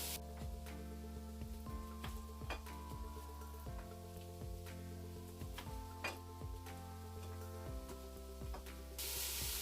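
Beef sizzling and splattering in a hot pan for beef stroganoff, a steady close crackle with sharp pops and spits scattered throughout, no voices.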